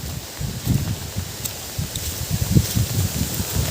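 Wind gusts rush past outdoors, rustling leaves in uneven waves of low rumble and hiss, with no talking.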